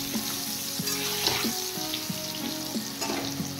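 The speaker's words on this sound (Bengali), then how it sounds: "এবার ডালটা ফোড়ন দিয়ে দিয়েছি।" Whole spices tempering in hot oil for a Bengali sour mango dal, a steady close crackling sizzle with a few sharper pops and stirring scrapes, with no voices.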